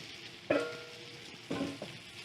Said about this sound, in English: I'm gonna go ahead and add in these Brussels sprouts to this.